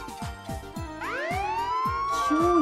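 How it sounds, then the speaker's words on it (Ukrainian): An ambulance siren rises in a long sweeping wail over a steady rhythmic musical beat in a children's song about transport, growing louder and sustained to the end. "швидка допомога їде"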